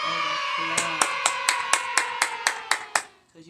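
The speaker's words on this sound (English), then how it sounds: "Let's give ourselves a big round of applause." Hand clapping at an upbeat gathering: about ten sharp, evenly spaced claps ring out over a steady tonal background, then trail off.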